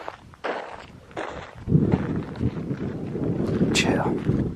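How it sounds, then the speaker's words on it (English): A strong gust of wind blows outdoors at night in a war cemetery, a broad rushing roar that swells partway through and holds steady, with some rustling and a voice briefly audible early on. "Getting a huge gust of wind"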